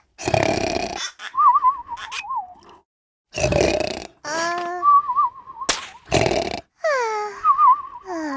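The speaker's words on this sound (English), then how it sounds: "Pinkerton's snoring woke up Pistachio 70 nights in a row." A cartoon character snores in the Endless Numbers kids' counting game: loud rasping inhales alternate with wobbly whistling exhales, repeating several times in a comic rhythm.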